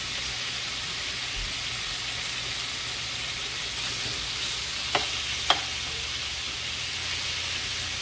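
Shrimp seasoned with black pepper sizzle steadily in a hot pan, an even close hiss with two brief clinks of a utensil partway through; no voices.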